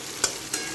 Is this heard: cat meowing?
no